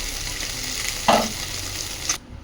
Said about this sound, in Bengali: দেখুন মাছগুলো খুব সুন্দরভাবে ভাজা হয়ে গেছে